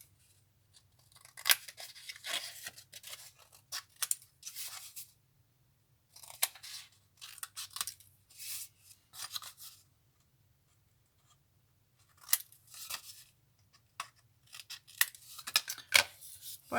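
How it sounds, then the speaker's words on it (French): Scissors snip the corners off cut paper pieces for a handmade Christmas mini album, giving repeated short crisp cuts in bursts separated by quiet pauses, close and fairly soft, with no talking. "Je vais venir ici découper mes angles."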